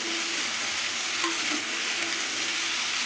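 Green hog plum (amra) chutney frying in a pan with a pinch of salt gives off a steady, dense sizzle that runs without a break, with a faint stir or two and no voices.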